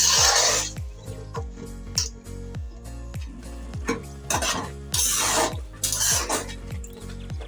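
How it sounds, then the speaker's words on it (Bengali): A spoon scrapes and stirs carrot halwa in a pan after hot milk is added, with rhythmic strokes about twice a second and bursts of hissing sizzle from the bubbling mixture, close up with no talking. "এবার এটা কিছুক্ষণের জন্য নাড়াচাড়া করব।"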